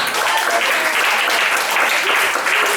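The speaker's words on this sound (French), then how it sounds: "Il s'appelle Jeff, est-ce qu'on peut l'applaudir, mesdames et messieurs?" Crowd applause, a dense steady clapping that fills the whole moment, loud and continuous without letting up.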